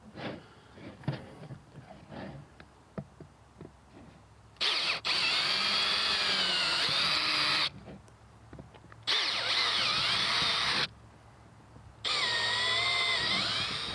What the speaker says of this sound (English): now I can finish getting these holes with my 1/4 inch drill bit